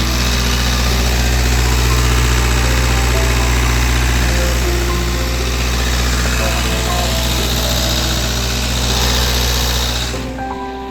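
A Nissan car engine idles with a steady low hum and drone, joined by the whirring of a radiator cooling fan, loud and constant before cutting off abruptly at the end.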